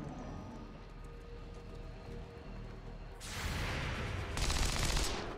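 Overwatch gunfire in XCOM 2 rings out as two loud, dense bursts of rapid shots in the second half, after a stretch of quieter battlefield ambience.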